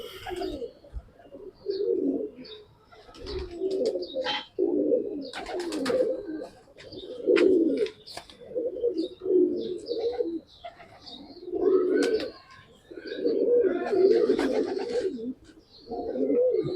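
Pigeons coo repeatedly at close range, soft throaty rolling calls in irregular bursts, with a few faint chirps and clicks between them and no talk.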